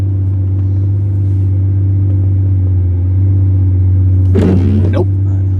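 A Lamborghini Murcielago engine idles in wet weather, a loud, steady low rumble heard from inside the car that never lets up, with a brief noisy burst near the end.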